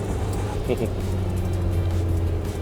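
Engine of a car accelerating hard with a steady rising drone, close and loud throughout, while people talk over it.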